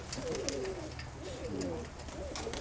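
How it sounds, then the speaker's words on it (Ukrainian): Soft, low pigeon cooing repeats in short rolling phrases, fairly quiet against a faint outdoor background hiss. "Да, это голубочка."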